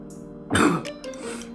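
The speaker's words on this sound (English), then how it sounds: "That was a fake cough." A single deliberate cough bursts out, rough and throaty like a forced clearing, followed by a faint hum and quiet after it.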